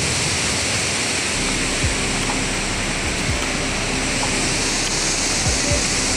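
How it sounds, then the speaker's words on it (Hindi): The powerful Barachukki waterfalls roar with a steady, dense, loud rush of falling water that continues unbroken throughout. "आप लोग पानी का आवाज़ सुनिए, वाह, मतलब साउंड सुनिए, इतना साउंड है कि क्या बताओ, बहुत ही पावरफुल वाटर सुनने का"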